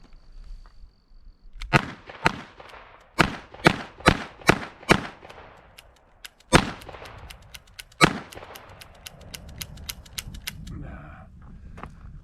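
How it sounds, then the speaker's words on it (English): A DB Sidekick revolver fires Hornady Critical Defense rounds double action, a series of sharp, loud cracks in uneven spacing. Quieter mechanical clicks of the action come between the shots, and a few trigger pulls produce only a click. "I put 4 of the Hornady critical defense rounds in there just to see how they'll do."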